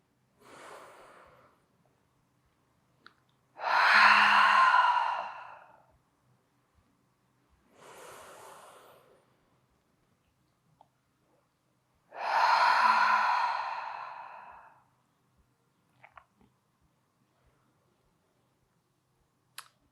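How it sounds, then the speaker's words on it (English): Deep breathing at the close of a yoga wrist workout: two long, loud, airy exhales, each preceded by softer inhales, slow and close with quiet gaps between. "Inhaling to start, fill your belly and chest. Exhale, release it out."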